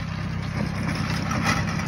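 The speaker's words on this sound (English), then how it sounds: "Got my boy Barry in the tractor." Tractor engine running while a food plot is prepared for deer season, a steady close rumbling drone with a pulsing low-frequency throb and no talking.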